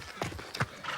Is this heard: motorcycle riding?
no